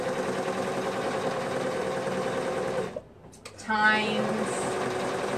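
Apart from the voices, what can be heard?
sewing machine sewing short ends of waistband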